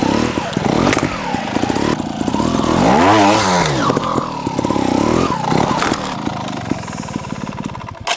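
A TRRS One RR trial motorcycle revs hard as it tackles a jump, its engine snarling loud and close with sharp bursts of throttle rising and falling over several seconds.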